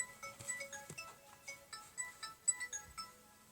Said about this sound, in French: c'est mon téléphone, c'est pas grave.